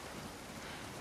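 Steady rain from the video game The Last of Us Part II, a dense, even wash of noise that stays loud and unbroken throughout, with no voices over it.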